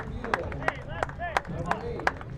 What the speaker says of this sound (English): Well-deserved round of applause for both players.